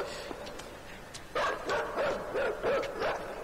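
A dog in the video game Inside barks a run of sharp, yelping barks in quick succession at moderate distance, starting after a brief quiet stretch, with no talk over them.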